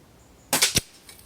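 A single sharp crack from a compressed-air .22 calibre rifle at close range, a quick burst with a brief snap at its tail, then silence.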